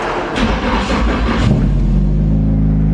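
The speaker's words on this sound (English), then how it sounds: "We're gonna start the car with no clutch." A car engine with a suspected blown head gasket cranks and catches, started without using the clutch, then settles into a loud, steady idle rumble with a brief rev, close by.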